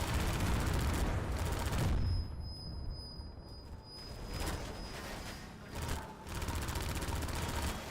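Repeated gunfire in Half-Life 2: a dense, loud, sustained roar of shooting and impacts that briefly thins around the middle with a ringing tone, then resumes heavy and continuous.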